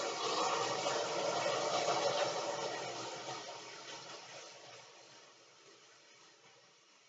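A whole can of undrained diced tomatoes poured into a hot pan, setting off a loud, close, steady sizzle that slowly fades over several seconds.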